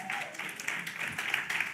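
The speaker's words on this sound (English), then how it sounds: "Y'all clap it up." Indoor community outreach session audience claps, a soft, fairly steady patter of many hands that stays faint and distant throughout.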